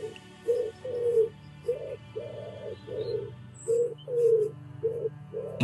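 Pigeons cooing close by in a steady run of soft, rounded, repeated coos over a low constant hum.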